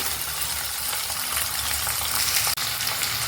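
Tomato and curry leaves frying in a pan give a dense, loud, even sizzle with faint stirring underneath and one brief sharp tap near the end.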